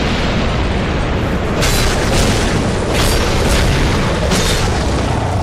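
The Ancient Dragon's fire attack in the video game Dark Souls 2, a loud, sustained roaring blast of flame and explosion filling the whole stretch with dense rumble.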